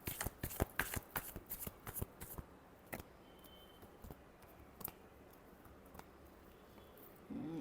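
Tarot cards are shuffled up close in a rapid burst of riffling flutters that slow into a few scattered taps and flicks, with no voices over them.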